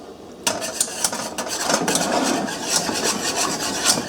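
Vanilla stirred into a warm panna cotta gelatin mixture, a close, continuous scraping and rubbing of a utensil against a bowl with rhythmic strokes and light clinks, no talk.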